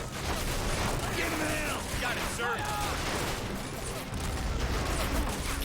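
Video game gunfire from Men of War Assault Squad 2 in a Hurtgen Forest skirmish, with dense overlapping rifle and machine-gun bursts crackling continuously over a rumbling battlefield, loud and sustained.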